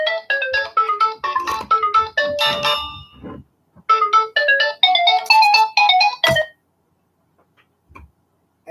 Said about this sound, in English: Now my cell phone's ringing.